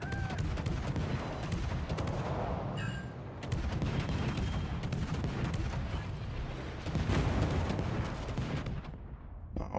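Naval gunfire in World of Warships, rumbling booms and crackling salvos layered densely over continuous battle noise, moderately loud with several distinct shot bursts.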